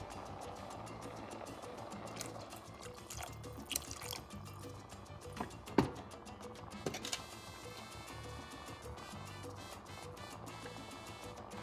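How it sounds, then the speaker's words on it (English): Broth poured into a pot of Puerto Rican style rice with crabmeat, a faint, steady trickle of liquid with a few light clinks and drips, and no one speaking. "I'm going to add a little bit more broth."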